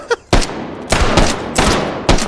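Gunfire rings out in the shooting game H3VR: a quick small pop, then four loud, sharp, close gunshots spaced about half a second apart, each with a short ringing tail.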